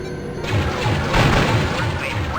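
Booming explosions in the 1993 space combat game X-Wing, played with the XWVM mod, roll through a dense, continuous rumble with repeated low thuds and crashes.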